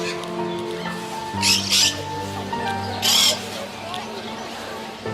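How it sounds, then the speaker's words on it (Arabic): Birds give a few short, loud squawking calls in separate bursts over a steady background hum, with people talking. "ايه اللي جوه ده؟ طيور."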